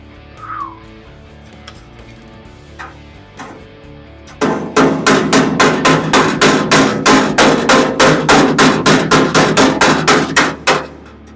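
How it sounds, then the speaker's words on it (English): Steel hammer tapping on a Ford F100 race truck body panel during a fabrication job: after a quiet stretch with a few stray sounds, a fast, even run of about twenty-five sharp metallic taps rings out loud and close. "just tap it with the hammer"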